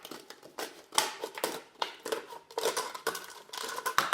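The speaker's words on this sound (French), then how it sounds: "on prend une bouteille, on prend les ciseaux, on les coupe" Scissors snip through a plastic bottle in a series of close, crisp cuts with crinkly plastic rustle between them, several strokes in quick uneven rhythm, no voices.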